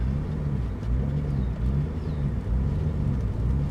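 A worn-out, junky car's engine drones as a steady low rumble, heard close and fairly loud without clear rises or falls, with no one speaking.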